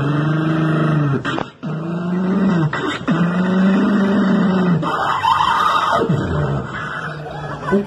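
A street beatboxer imitates a car with rumbling, revving mouth sounds, rising and falling over several seconds, with brief breaks between bursts.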